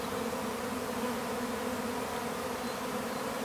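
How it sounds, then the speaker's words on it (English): A strong honeybee swarm hums around a colony on a farm in summer, a dense, steady buzz that stays even and moderately close for the whole stretch, with no voices. "a ton of bees here."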